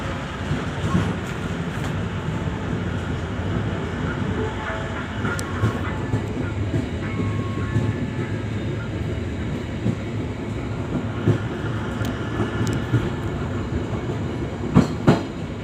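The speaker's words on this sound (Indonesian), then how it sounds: "kereta Matarmaja tiba di stasiun Babakan" Matarmaja economy-class train rolls into Babakan station with a steady low rumble of wheels and carriages, faint clacks and a few sharp metallic clanks near the end, heard close and alone.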